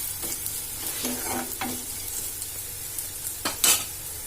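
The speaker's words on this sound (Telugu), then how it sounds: "ఇక్కడేమో కాకరకాయ పీసెస్ చూడండి ఇలా క్రిస్పీగా తయారవుతుంది" Bitter gourd pieces fry crisp in a pan, a soft steady sizzle broken by a few scraping stirs of a spoon against the metal and one brief clink near the end.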